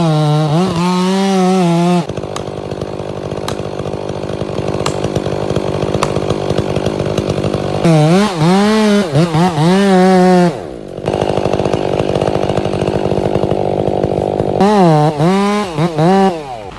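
A chainsaw making a hinge cut on a felled tree in a logging setting, loud and close, with steady high-revving bursts broken by lower idling stretches and revving swells.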